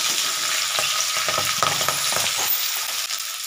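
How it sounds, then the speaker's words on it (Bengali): Vegetables for egg chow mein frying in hot oil in a wok, a steady close hiss of sizzling with scattered light scraping and stirring taps, no voices. "সবজিটা আমি এবার দিয়ে দিচ্ছি কড়াইতে"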